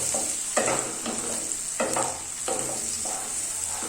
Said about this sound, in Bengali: এবার টমেটো পেঁয়াজটাকে ভালো করে নাড়াচাড়া করতে হবে